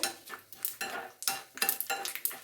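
Chana dal lightly roasting in a pan, stirred with a utensil that scrapes and rattles against the metal in short, uneven bursts, close and moderately loud with brief pauses between strokes.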